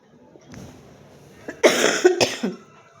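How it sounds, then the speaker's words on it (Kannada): A person coughs a few times in quick succession, loud and close, after a brief quiet moment with faint breathing. "ಸಾರಿ ಫ್ರೆಂಡ್ಸ್ ಕೆಮ್ಮು ಬರ್ತಾಯಿದೆ, ಕ್ಷಮೆ ಇರಲಿ"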